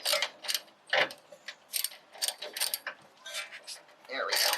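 A ratchet clicks in quick uneven bursts while tightening a bolt on an FJ steering knuckle during a hub rebuild, close and fairly quiet with short pauses between strokes.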